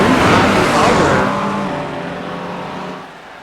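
Race-car engines roar in a GT3 racing game at Monza, including a Mustang. The loud, close engine note fades steadily as the cars pull away, and a commentator talks over it.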